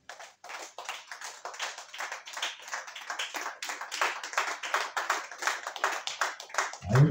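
A church congregation claps in quick, steady rhythm at the close of a worship service, dense and lively applause-like beats continuing for several seconds, with a short vocal sound right at the end.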